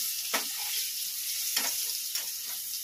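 Potatoes fry in a pan with a soft, steady sizzle, broken by three distinct bursts of crackling as they are stirred or shifted.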